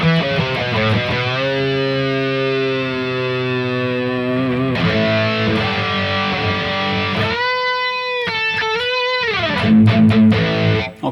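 Distorted electric guitar run through a stereo chorus placed after the amp model on a Harley Benton DnaFx Git Pro, sustained chords and ringing notes with a shimmering, doubled wash, played alone and loud throughout.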